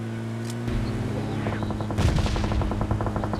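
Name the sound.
heavy gunfire in a mobile shooter video game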